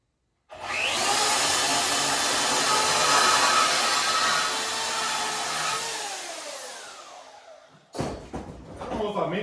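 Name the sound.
bandsaw cutting steel tubing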